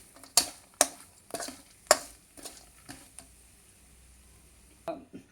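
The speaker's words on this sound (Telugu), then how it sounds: "ఒక స్పూన్ కారం, ఒక స్పూన్ ఇవ్వండి, 2 స్పూన్ వేసేస్తానండి. కలపాలి." Chili powder is stirred into a boondi mixture, heard as a series of sharp spoon clinks and scrapes against a pan, about eight strokes at uneven intervals over a faint sizzle.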